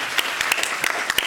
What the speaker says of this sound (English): So if you could join me for just giving them a round of applause.